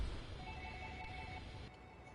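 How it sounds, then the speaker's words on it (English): A telephone rings faintly in the background, a thin repeating electronic tone over a low steady room hum. "Excuse the phone ringing in the background."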